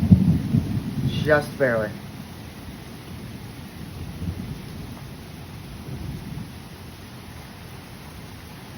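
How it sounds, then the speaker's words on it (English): Steady rain falls during a thunderstorm in Manchester, New Hampshire, with a low rumble of thunder early on and a brief spoken remark, then continuous rain hiss at varying intensity. "Now this would be the section where we just see rain for a little bit at varying intensities."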